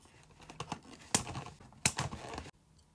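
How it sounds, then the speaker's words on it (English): Small plastic ties being clicked or snipped off toy dinosaur packaging during an unboxing, giving two sharp, close snaps among light rustling and handling noises before a quiet pause. "we can click or snip off all the little ties"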